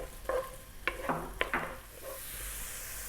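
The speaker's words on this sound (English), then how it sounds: "In goes that cup of onion, tablespoon of garlic. Let's throw that around for about 3 minutes." Chopped onion and garlic sizzle in hot olive oil in a pan, with several sharp spoon-stirring scrapes and clatters rising over a steady frying hiss, close and fairly quiet.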